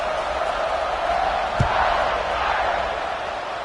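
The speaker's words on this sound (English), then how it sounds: "this crowd is buzzing after that last score" Football stadium crowd at a Miami vs Notre Dame college game, a dense loud roar and buzz filling the air continuously, with a brief thud partway through.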